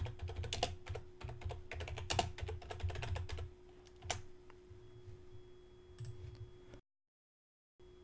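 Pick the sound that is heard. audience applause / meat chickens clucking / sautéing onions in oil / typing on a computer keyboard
typing on a computer keyboard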